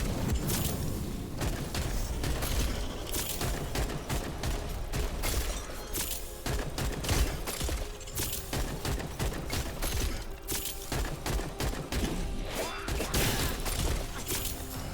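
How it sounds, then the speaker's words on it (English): Ransom rifle firing concentrated shotgun blasts in the video game Wayfinder, with dense repeated gunfire bursts and crashing impacts layered over continuous game effects and music. "once you've got locked and loaded charges, you will basically fire a concentrated shotgun blast."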